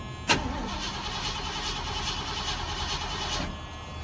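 A 351 Windsor V8 engine is cold-started: a sharp crank-and-catch burst, then a steady, loud mechanical churn for several seconds before settling, with no talking over it.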